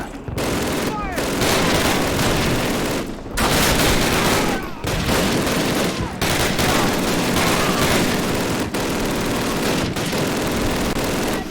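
Call of Duty gameplay fills with dense, loud gunfire: rapid automatic bursts and sharp shots in quick clusters, briefly pausing a few times, while a voice talks over the action.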